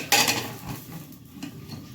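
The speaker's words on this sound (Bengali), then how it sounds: "এইদিকে আমার মাংসটা কষানো হচ্ছে" Meat being braised and stirred in a pot for khichuri: a sharp metallic clang of a spoon against the pot, then softer scraping and clinking, close and alone.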